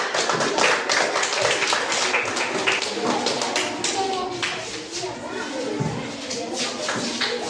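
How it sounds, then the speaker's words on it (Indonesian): Schoolchildren in a classroom clap for a group of classmates, a dense, fairly loud patter of many small hands that keeps up steadily, with children's voices underneath. "Oke, berikan tepuk tangan ke kelompok 5."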